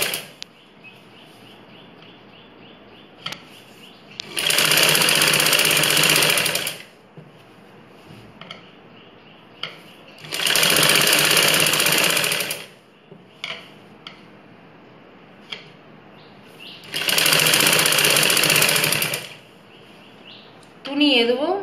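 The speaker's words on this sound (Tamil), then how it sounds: "அதை மடித்து ஒரு அமுக்கு தையல் போட்டுறோம்" Sewing machine stitching a folded edge of blouse fabric, running in three steady bursts of a few seconds each, separated by pauses with quiet handling noises.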